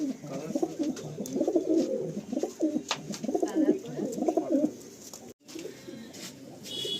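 Pigeons cooing inside a pigeon loft at Ichchapur, several overlapping soft throaty coos rolling on almost without pause, close and fairly quiet, with a brief dropout near the end.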